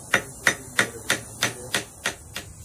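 A rivet is struck with a hammer and rivet set while making a colonial candleholder, eight sharp, evenly spaced metallic taps about a third of a second apart, loud and close with no talking.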